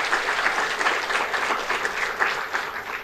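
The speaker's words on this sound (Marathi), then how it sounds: "This requires a clap. अरे टाळ्या वाजवा जरा." Lecture hall audience at a science and technology talk breaks into sustained applause, a thick, even patter of many clapping hands that holds steady at moderate loudness from start to finish.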